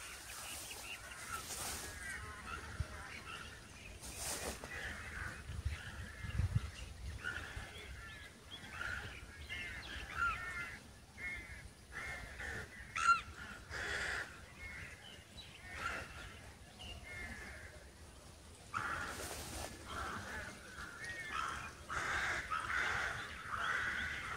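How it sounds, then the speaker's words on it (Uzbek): Crows caw and small birds chirp around a quiet countryside sanatorium, with scattered, faint calls from some distance and no traffic noise. "Qushlarning ovozini o'rmonga o'xshaydi."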